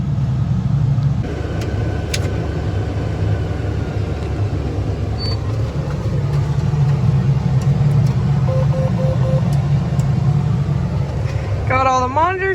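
A tractor drives back to the farm with a steady low engine rumble heard from the cab, loud and unbroken throughout, with a few faint clicks and a brief beeping near the end.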